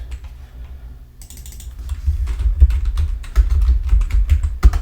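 Fast typing on a computer keyboard, close up, with quiet scattered keystrokes at first, then a dense run of clicks and clatter.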